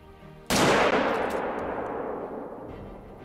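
A single loud rifle shot at a cape buffalo in a hunting video game cracks sharply and close, then rolls away in a long fading echo over quiet ambient background.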